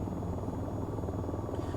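Helicopter rotor in the VTOL VR flight game, a steady close droning buzz with constant beating that holds throughout without pause.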